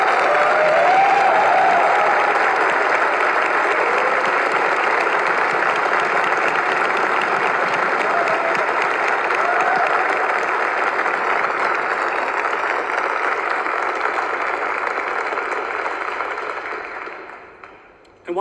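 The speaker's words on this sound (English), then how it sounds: "with one further round of applause" Sustained applause from a large audience honouring graduates at a Glasgow University masters graduation ceremony, a dense, steady wash of clapping that holds for about sixteen seconds before fading out.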